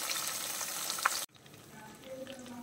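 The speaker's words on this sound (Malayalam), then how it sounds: "ഇത് സാധാരണ നമ്മൾ മീൻ വറുക്കുന്ന പോലെ തന്നെ" Fish frying in a pan, a dense, close sizzle that cuts off abruptly partway, leaving a quieter, fainter hiss with some faint tonal background sounds afterward.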